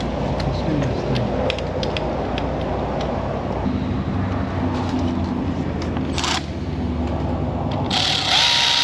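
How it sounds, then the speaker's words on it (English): A power tool spinning in bolts during a brake overhaul in an auto repair shop whirs continuously in bursts, with a higher-pitched whine near the end, while voices talk in the background. "I'm going to spin them in with my power tools"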